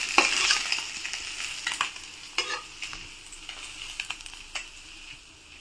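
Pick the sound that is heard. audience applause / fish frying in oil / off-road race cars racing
fish frying in oil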